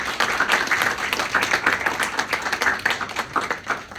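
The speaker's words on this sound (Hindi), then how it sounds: "चलो तालियां बजाओ।" Audience in a classroom or seminar on becoming a chartered accountant claps steadily for several seconds, dense clapping from many hands close by with no voices over it.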